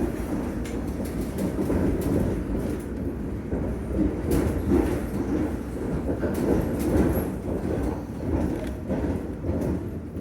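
A London Underground Metropolitan line train runs between Uxbridge and Aldgate with a steady deep rumble and low wheel noise, plus faint intermittent rattles and clicks, heard from inside the carriage with no talking.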